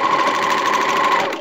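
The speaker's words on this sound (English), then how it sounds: "and then keep serging." A serger stitches elastic onto swimsuit fabric, a fast, steady mechanical buzzing hum running close and continuously without pause.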